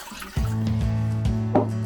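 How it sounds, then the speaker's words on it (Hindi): A cup of water is poured into the pot of an air fryer, a close, steady trickling splash with a ringing tone as the liquid fills the metal pot. "इसके अंदर जो है हम पहले डालेंगे पानी 1 कप"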